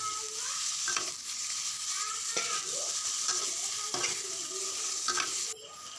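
Ingredients for a goat meat curry fry in a pan with a continuous bright sizzle, while a utensil scrapes and stirs in repeated strokes, close by and with no talking.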